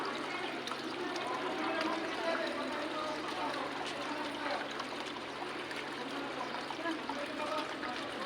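Water runs steadily through a pipe in a small high-school vegetable garden, a continuous trickling, rushing flow heard close and moderately loud with no pause.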